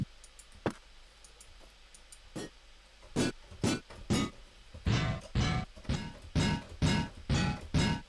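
Iron boots from The Legend of Zelda: Ocarina of Time make a run of heavy metallic clanks, sparse at first and then in a steady rhythm of about ten close, loud impacts, each with a bright ringing edge.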